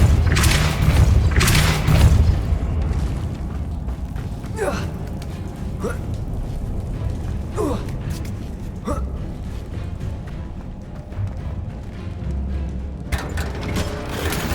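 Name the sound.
Depulso spell cast in video game Hogwarts Legacy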